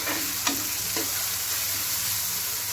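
A tadka of oil with spices sizzles for saag, a close, steady frying hiss with a couple of sharp stirring clinks early on and no talking.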